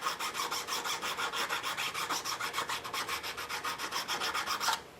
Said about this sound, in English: I got a little file here.